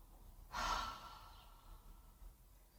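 A single deep exhale during a spinal release exercise, a soft, airy breath out that swells and then fades over about a second, quiet and close, with no talking.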